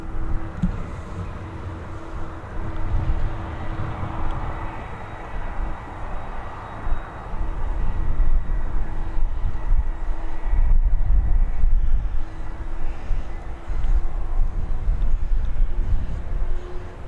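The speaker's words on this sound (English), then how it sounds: "we have that 787-9 series Dreamliner heading over to Cancun in Mexico" A TUI Boeing 787-9 Dreamliner departing Dublin Airport, its broad jet engine roar building and holding loud at a distance, with wind buffeting the microphone throughout.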